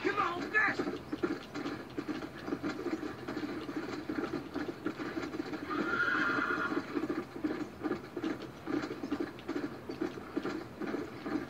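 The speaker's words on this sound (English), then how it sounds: "Well, the horse is getting away." Horse whinnies and pounding hooves from the open-world Western video game Red Dead Redemption 2, a neigh standing out early and again mid-clip over steady galloping and game ambience, with no speech.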